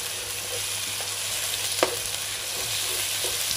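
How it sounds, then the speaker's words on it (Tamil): Ginger garlic paste, two tablespoons, sizzles and fries in a pan for a Jaffna-style Sri Lankan mutton curry, a steady close hiss with a few soft stirring scrapes and one sharper clink near the middle. "ரெண்டு மேசக்கரண்டி இஞ்சி பூண்டு விழுது சேர்த்துருக்கேன்."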